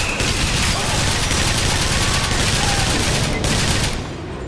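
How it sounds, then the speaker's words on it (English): Rapid, loud bursts from the burst gun in the game Bioshock Infinite: Burial at Sea, a near-continuous barrage of gunfire over a dense combat mix, easing off in the final moment. "Oh, it's the burst gun."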